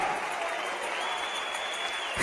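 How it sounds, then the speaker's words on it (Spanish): A church congregation claps in praise, a faint, steady patter of many hands heard from a distance with no one speaking over it. "démosle palmas al Señor"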